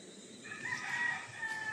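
A rooster crows once in a long, drawn-out call, somewhat distant, over a steady outdoor background.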